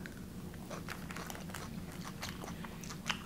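Someone eating crunchy KFC coleslaw of cabbage and mayonnaise, with close, quiet crunching bites and chewing that repeat irregularly over a few seconds, with no talking.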